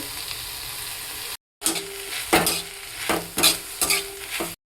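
Pasta sizzling and being stirred in a pan, with several bursts of scraping and hissing separated by short pauses and a brief silent gap.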